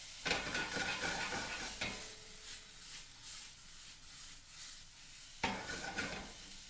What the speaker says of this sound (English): when you're sauteing the onion, it's a little flick of the wrist